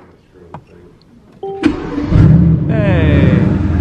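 A few clicks and a short whir of the starter, then a 2023 Ducati Panigale V4 sport motorcycle engine with its stock exhaust catches and settles into a steady, close idle with a buzzing rasp.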